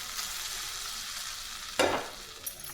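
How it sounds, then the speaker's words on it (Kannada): A spoonful of hot oil goes into a potato and rice flour chakli dough, giving a sudden crackling sizzle partway through over a steady background hiss, then a faint clink near the end. "ಸ್ವಲ್ಪ 1 ಸ್ಪೂನಷ್ಟು ನಾನು ಬಿಸಿ ಎಣ್ಣೆ ಹಾಕ್ಕೊತಾ ಇದ್ದೀನಿ"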